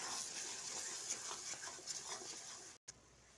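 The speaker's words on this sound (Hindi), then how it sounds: "तो हम मसाले को अच्छे तरह से भून लेंगे।" A spice and coconut paste masala fries in a pan with a faint, steady sizzling hiss that cuts out briefly near the end.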